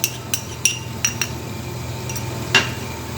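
A metal spoon clinks and scrapes against a cooking pot as yogurt is stirred into mutton, onions and potatoes, a few sharp taps scattered over a low steady hum.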